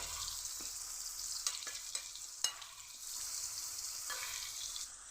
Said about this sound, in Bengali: বন্ধুরা আপনারা চাইলে কিন্তু টমেটো না কেটে আস্তা টমেটোগুলো এভাবে ভেজে নিতে পারেন